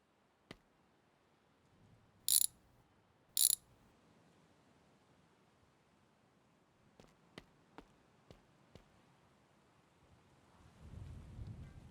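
Bolts come off a car under restoration in a garage, with two sharp loud bursts like an impact gun, then several faint clicks and knocks of tools, and a low rumble near the end.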